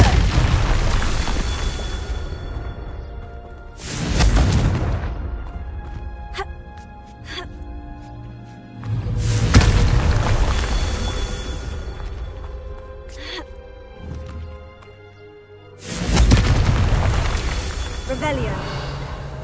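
Loud booming blasts of the Confringo spell in Hogwarts Legacy recur several times, each a heavy explosion that fades into rumbling debris and spell effects.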